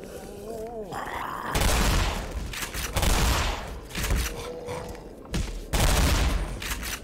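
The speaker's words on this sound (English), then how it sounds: "Love using the shotgun." Shotgun blasts in the video game Black Mesa, several loud booming shots spaced a second or so apart with short rumbling tails, mixed with other game effects and a bit of talk.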